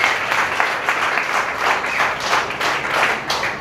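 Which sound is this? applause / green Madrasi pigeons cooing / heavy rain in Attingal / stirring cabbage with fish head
applause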